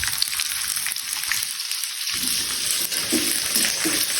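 Onion and long green chillies hitting a hot pan for paneer chilli, a loud hissing sizzle that briefly dips then surges back as the onion drops in, with faint scraping underneath.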